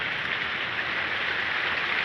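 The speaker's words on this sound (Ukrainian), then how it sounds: "Навіть на терасі забиває дощ." Heavy rain pounds down on an open terrace during an early-April thunderstorm, a dense, steady hiss of drops striking hard surfaces with no let-up, loud and close throughout.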